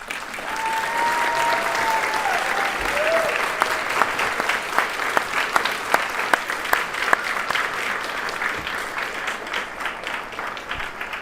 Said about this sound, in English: would you please stand and with the graduate's turn and give you a round of applause